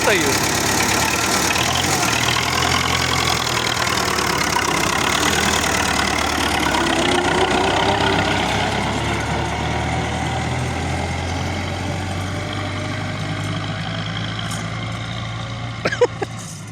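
A T-40 tractor engine runs at a steady rumbling drone, loud and continuous, with a deep low throb; a voice speaks over it near the end.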